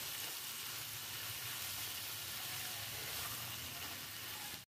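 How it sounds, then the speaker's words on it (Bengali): Grated potato filling sizzles steadily as it is stir-fried in a hot pan for bread chicken pakora, a constant close frying hiss with no talking, cutting off abruptly at the end. "এরকম নেড়ে চেড়ে ভাজা ভাজা করেই কিন্তু পুরটা আমি বানাচ্ছি"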